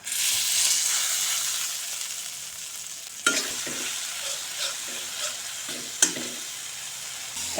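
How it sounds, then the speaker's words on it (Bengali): Onion, ground spices and garlic-ginger paste sizzle in hot oil in a kadai, a strong hiss at first that settles, broken by sharp clatters of a spoon stirring. "কড়াইতে তেল দিয়ে পেঁয়াজ জিরা গুঁড়া লঙ্কা গুঁড়া হলুদ গুঁড়া একসঙ্গে দিয়ে দিয়েছি"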